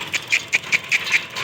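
Dog by a canal, a short run of quick rhythmic panting breaths, about six evenly spaced pulses, close and fairly faint.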